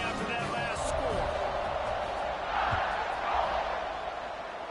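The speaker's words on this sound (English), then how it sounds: "this crowd is buzzing after that last score" At an Alabama college football stadium, the crowd buzzes after a score in a broad, continuous wash of noise with a few swells and thumps rising out of it, and a voice carries over the top.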